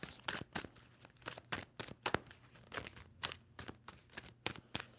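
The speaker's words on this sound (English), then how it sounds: "Two more shuffles for Aquarius." A tarot deck is being shuffled by hand, quiet close crisp card riffles and taps in an irregular run of snappy bursts.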